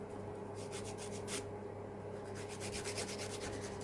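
A nail file rasps steadily back and forth across fingernails being shaped, close and continuous with rhythmic strokes over a low steady hum.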